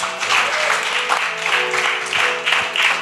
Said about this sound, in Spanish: ¿Cuánto le puede dar un fuerte aplauso a Jesús?